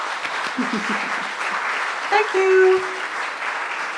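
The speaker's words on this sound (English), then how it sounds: "So give a round of applause for Rachel, please." An audience applauds for Rachel in a soft, steady patter of clapping, with a voice briefly speaking over it partway through.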